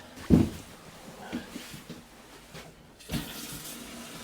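A mobile home toilet that has been drained and purged refills with water, a short gurgling rush near the start and another near the end over a low running hiss, close by.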